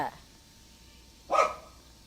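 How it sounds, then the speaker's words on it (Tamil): A single sharp dog bark rings out near the end of a quiet moment, with a faint voice trailing off at the start. "ஏதோ நாய் வந்துச்சு."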